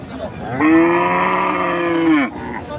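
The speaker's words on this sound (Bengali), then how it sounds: "এখানে একটা গরু দেখতে পারতেছেন, অনেক সুন্দর একটা গরু।" A bull lets out one long, loud moo close by at a cattle market, steady and drawn out for a couple of seconds before cutting off.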